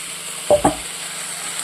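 Okra and chopped tomatoes sauté in a pan for a tamarind curry. A soft, steady sizzle runs throughout, broken by two short, dull knocks as the tomatoes go in.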